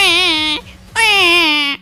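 A baby cries loudly and close by in two long sustained wails separated by a short breath, with no speech over it.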